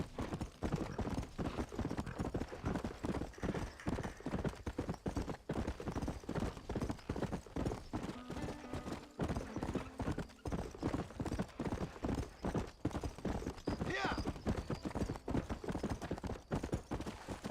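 Rapid, steady hoofbeats of a horse galloping in Red Dead Redemption, a dense clip-clop rhythm running throughout at close range, with a brief whinny partway through and no talking.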